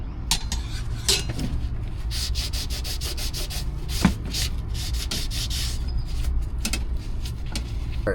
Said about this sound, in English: this has a little rougher side. Scrubbed it down.